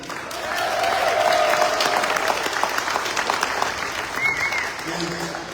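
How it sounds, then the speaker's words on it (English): A crowd at a get-out-the-vote political rally in Atkins, Texas breaks into loud, sustained clapping and cheering that swells, then tapers off, with a voice faintly audible near the end. "get a round of applause for President Trump and Governor Abbott."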